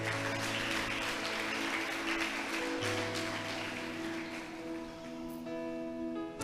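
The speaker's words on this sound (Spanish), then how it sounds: "Y le da un aplauso al Señor, hermano." Church congregation claps in praise to the Lord, a dense continuous patter of many hands beneath sustained organ or keyboard chords, with the clapping thinning slightly near the end.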